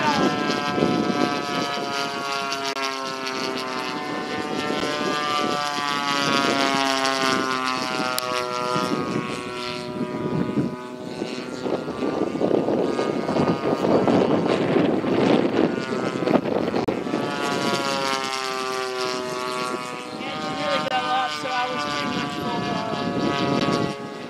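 Loud droning 30cc gas engine of a Yak 55M radio-controlled aerobatic plane in flight, pitch rising and falling as throttle and distance change, with wind buffeting on the microphone.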